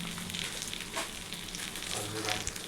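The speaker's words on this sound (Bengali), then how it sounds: "ফ্রাই করছি ভালো করে, মশলাটাকে কষাচ্ছি ভালো করে" Turmeric, cumin and coriander powders fry in oil in a pan, making a steady sizzle broken by soft stirring scrapes, with no speech.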